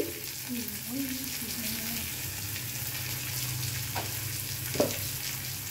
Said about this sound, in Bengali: রান্নার সবথেকে আসল জিনিস হলো মশলাটা ভালো করে কষানো